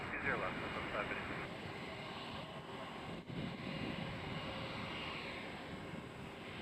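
A JetBlue jet airliner at Nashville airport, bound for Boston, rumbles steadily in the distance for several seconds, a broad continuous roar with a voice talking over it.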